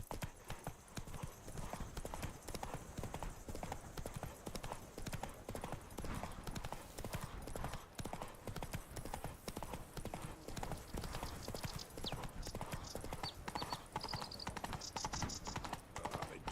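A horse trots steadily in The Witcher 3: Wild Hunt, its hooves making constant brisk clip-clops over ambient game sound, with faint higher effects near the end and no talking.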